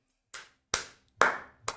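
Four separate hand claps sound at an uneven pace, sharp and fairly close, each with a short ringing room tail, with silence between them.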